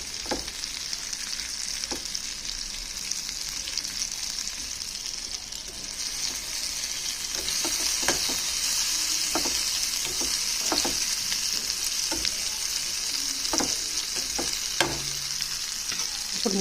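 Bitter gourd fries in a pan with a steady, close sizzle, broken by repeated sharp scrapes and taps of a spoon stirring it, with no voices.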